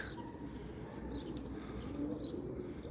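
Pigeons coo softly outdoors, their low, burbling calls running steadily under faint background noise and a few thin bird chirps.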